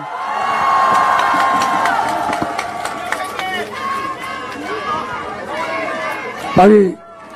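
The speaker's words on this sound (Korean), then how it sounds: "큰 박수와 함성으로 맞이해 주시기 바랍니다" A large crowd at an outdoor political campaign rally at Noeun Station Plaza in Daejeon, South Korea, cheers and shouts with lively chatter, voices overlapping loudly throughout, swelling briefly near the end.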